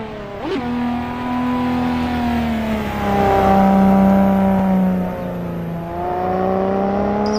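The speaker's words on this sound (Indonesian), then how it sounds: "Wow, ada mobil balap." A toy race car's revving engine sound plays up close, a steady droning whine that rises and falls in pitch across several seconds.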